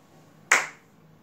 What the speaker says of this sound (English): after every word I'm going to clap